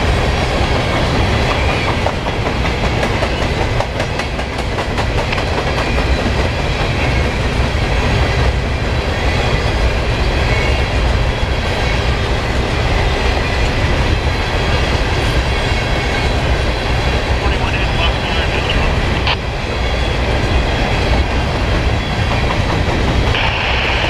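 A Norfolk Southern northbound grain train rolls past at Cooke Road in Columbus, Ohio, a steady close rumble of freight cars with continuous clickety-clack of wheels over rail joints throughout.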